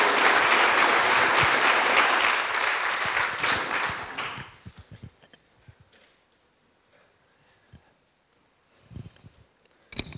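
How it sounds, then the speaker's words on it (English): Conference attendees at a Python lightning-talks session applaud Ryan, a loud burst of clapping that fades out after about four seconds into a few scattered claps and quiet room noise. "Take this opportunity to give Ryan a massive round of applause"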